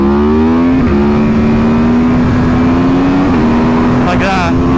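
An Aprilia Tuono motorcycle roars loud and close through a power wheelie, the engine note climbing and dropping sharply as it shifts up through the gears with a quick shifter, a voice talking over it.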